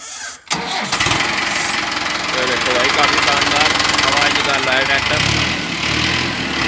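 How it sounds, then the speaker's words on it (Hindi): A Mahindra Arjun 555 DI tractor engine cranks briefly and catches, then settles into a loud, steady diesel rumble nearby. A voice is heard near the start. "एक बार इसकी आवाज़ सुनवा दो।"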